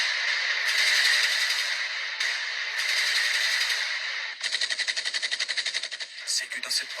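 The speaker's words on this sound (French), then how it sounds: "des tirs et des détonations se font entendre" Combat gunfire and detonations near Côte d'Ivoire's western border in the mountains district: rapid automatic bursts with a fast rattling pulse, loud and fairly close, with harsh sustained blasts before them and voices mixed in.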